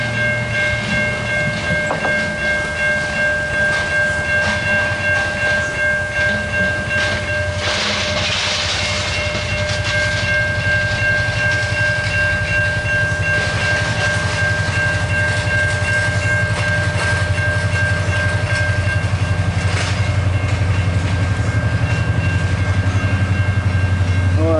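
A CSX local mixed freight train rolls past, with a steady rumble and rhythmic clickety-clack of wagons over the rails, a sustained whistle-like tone above, close and loud for the whole stretch.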